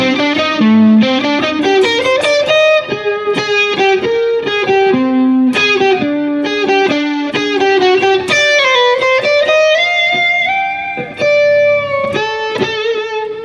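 A distorted, effects-laden electric guitar improvises jazz lines over the A section of Blue Bossa, resolving to C Dorian, with flowing melodic phrases and sustained notes, loud and close with no talking.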